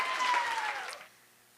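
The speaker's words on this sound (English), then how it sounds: "please give all your applause to Jessica Stenberg" Brief applause from an audience at a state poetry recitation finals, a short burst of clapping with a faint tone running beneath it, fading out after about a second into near quiet.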